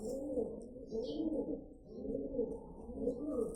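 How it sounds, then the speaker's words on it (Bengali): A Pakistani male pigeon coos close by, four rhythmic, low, rolling calls in a steady repeating pattern, fairly quiet, with no talk over them. "এই যেটা হচ্ছে নর কবুতর"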